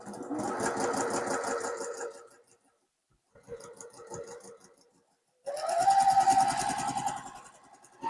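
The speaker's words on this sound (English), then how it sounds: "And I'm taking my time sewing." A sewing machine stitches a quilt sampler block in three runs, a fast steady mechanical whir at moderate volume broken by short pauses of silence.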